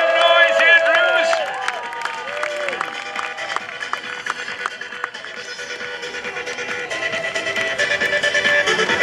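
Large outdoor crowd at a military open house cheers and applauds for an Army Golden Knights parachutist, a loud sustained roar of clapping and shouting with a few whistles, strongest at the start and holding steady throughout.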